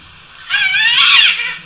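A Sumatran binturong gives a single close, cat-like mewing call lasting about a second, wavering and rising slightly before fading.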